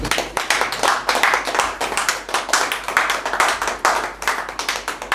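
An audience applauds at a certificate-handing ceremony closing an internal auditor training course, steady sustained clapping from many hands filling the room throughout, fairly loud and close with no voices over it.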